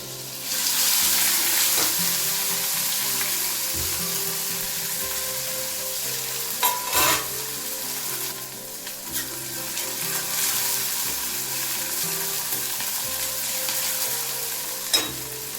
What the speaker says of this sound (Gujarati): ડુંગળી એકદમ સરસ પાકવા દેવાની છે ડુંગળી મસ્ત સતળાઈ ગઈ છે